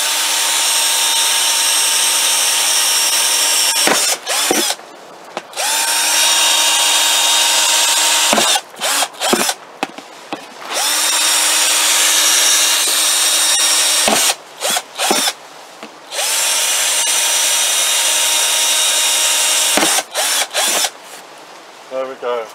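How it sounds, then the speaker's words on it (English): A power drill bores drainage holes in a plastic bucket, its motor whining loud and steady in several long runs broken by short stops and clicks. "we're just going to make a few holes just for drainage"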